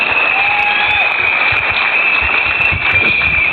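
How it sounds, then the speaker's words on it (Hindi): Audience applause for Sunita at a New Year evening gathering, a continuous dense clapping of a crowd, loud and even across the whole stretch, with a faint high tone running beneath. "इसके लिए जोरदार तालियां दीजिए सुनीता के लिए"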